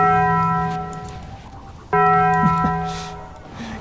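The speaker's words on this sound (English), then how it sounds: "Got the double Taco Bell sound." The Taco Bell bong sound effect rings twice with deep, resonant, bell-like tones. The first strike decays over about a second, then a second strike lands and fades out slowly, with faint background noise underneath.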